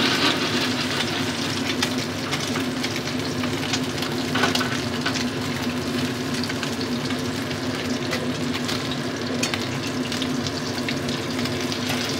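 Small mourola fish frying in a pan make a continuous, fairly loud sizzling crackle that holds steadily, with scattered pops and spits over the hiss.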